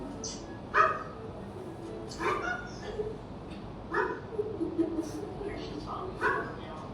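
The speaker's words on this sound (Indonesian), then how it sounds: "memperlihatkan bagaimana suara kucing putih ini saat marah" An angry white cat makes dog-like barks, producing short yelping barks spaced a second or so apart, fairly close and moderately loud over a low background hum.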